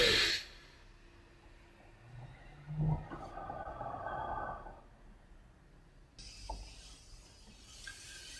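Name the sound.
deep breath in and out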